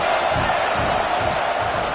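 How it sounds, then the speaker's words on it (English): A football stadium crowd at a Florida at Florida State game keeps up a loud, steady roar of cheering and yelling, a dense, unbroken wall of noise throughout. "This crowd trying to make life miserable for this offense."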